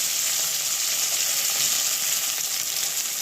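Onion, tomato and green chilli hit hot oil in a pan and fry with a bright, continuous hiss that stays loud and close for the whole stretch.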